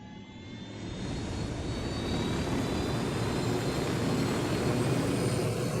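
Steady, loud aircraft engine drone inside Ghost Recon Wildlands while the player pilots, a dense roar rising slightly after the first second and holding constant, with faint high whine lines above.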